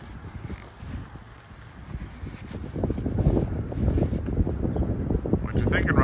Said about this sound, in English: It's a little breezy today out here in Daly City. Hopefully it doesn't affect our audio quality too much.